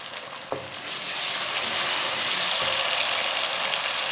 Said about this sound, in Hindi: 1 मिनट तक मैंने भून लिया टमाटर और हरी मिर्ची को।